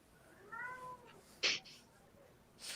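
A cat meows once with a clear, drawn-out call, followed by a sharp burst like a sneeze and a softer noisy sound near the end, all fairly faint against a quiet room.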